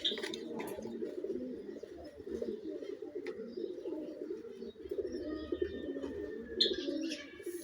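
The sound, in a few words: pigeons cooing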